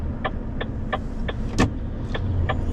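A car rolls downhill on a road, with a low, steady drone under a row of evenly spaced sharp ticks and one brief louder click.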